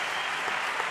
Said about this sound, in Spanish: Lo que pido ya para despedirnos es un fuerte aplauso para nuestro primer ponente